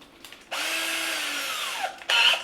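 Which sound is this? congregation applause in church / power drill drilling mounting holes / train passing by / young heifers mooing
power drill drilling mounting holes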